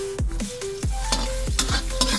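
Ginger sizzles steadily in an old frying pan while a utensil scrapes and stirs in repeated strokes, close and clear.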